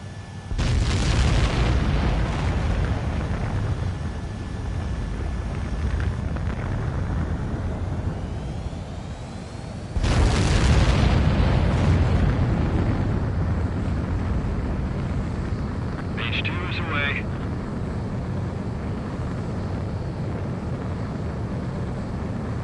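A jet fighter takes off in the Ace Combat video game, a loud roaring engine rush that swells twice into heavy booming thrust, then holds as a steady wind-like drone.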